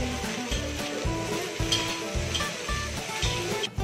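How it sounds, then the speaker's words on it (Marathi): Okra with onion and green chili sizzles steadily in an iron pan while a spatula stirs and scrapes in repeated rhythmic strokes, close and continuous with no talking. "कांदा, मिरची, हे सगळं जो आपण टाकलेला मसाला तो आपल्याला सगळा परतून एकजीव करायचं आहे।"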